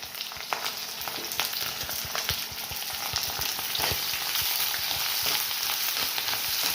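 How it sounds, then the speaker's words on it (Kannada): Onion, cinnamon, clove, garlic and ginger tempering in oil in an iron pan, giving a steady close sizzle with scattered sharp crackles and light stirring taps throughout. "ಬೆಳ್ಳುಳ್ಳಿ ಮತ್ತು ಇದು ಶುಂಠಿ, ಇಷ್ಟನ್ನು ಒಗ್ಗರಣೆ ಮಾಡ್ಕೊಳ್ಳೋಣ"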